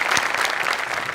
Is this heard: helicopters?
no